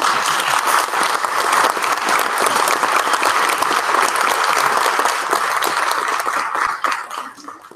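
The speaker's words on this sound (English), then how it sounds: "but it was a well-deserving round of applause" Loud, dense round of applause from a college audience for standing student senators, steady clapping that fades out near the end, with no talk over it.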